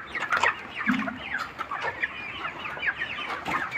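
Chickens on a rooftop poultry farm, some sick with bloody droppings, cluck and chatter in repeated short calls, close and fairly lively, with no one speaking.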